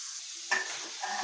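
Banana stem pieces and spices tipped into a hot kadai break into a sudden sizzle with stirring scrapes, a short close burst that keeps frying steadily.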